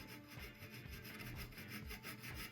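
Pedicure scissors drawn across a sharpening stone, a quiet, continuous rasping rub repeating in short even strokes, close up with no talking.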